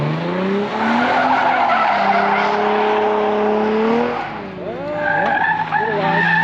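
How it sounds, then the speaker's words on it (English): A car drifts and skids around cones on a race track during a drivers' education track day, with long sustained tire squeals that rise and bend in pitch over steady engine noise throughout. "We'll just slowly drive around the cone, get focused,"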